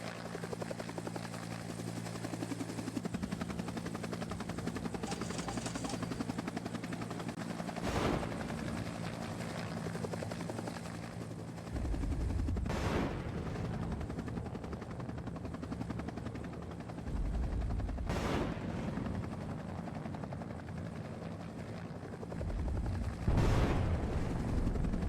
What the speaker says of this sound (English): You guys are about to see some action from one of my helicopters.